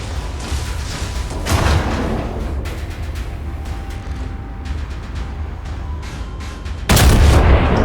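Gunfire and artillery booms in a battle video game, with repeated sharp shots and heavy thuds scattered throughout and a louder burst of explosions near the end, dense and close.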